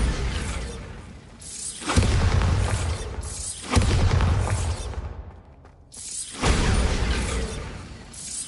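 Bombarda blasting spells in Hogwarts Legacy go off as four loud, booming explosions with shattering debris, each blast separated by a brief lull.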